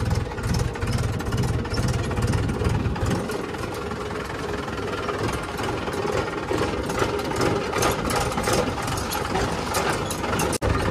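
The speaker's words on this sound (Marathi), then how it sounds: "पाहू शकता किती झटके बसतात, आपल्याला क्लच दाबून ट्रॅक्टर चालवावा लागतोय." A farm tractor engine runs steadily at close range with a heavy low rumble and rapid knocking pulses, jerking and shuddering as it is driven with the clutch held down; no talk is heard.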